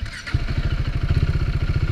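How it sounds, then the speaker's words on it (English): A motorcycle engine catches and settles into a rapid, even thumping idle, close and steady after a brief starter sound at the start. "I'll start my bike now."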